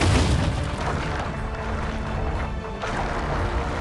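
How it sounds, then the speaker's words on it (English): A ballista bolt slams into its target in a medieval siege video game, a heavy booming crash that swells into a dense, loud rumble of debris and settling impact noise. "That was a ballista, Excellency."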